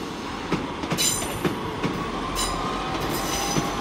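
A pair of coupled diesel Class 150 passenger units rumbles steadily through Exeter St Davids station with rhythmic wheel clacks and a faint high squeal, heard from the platform with no talking.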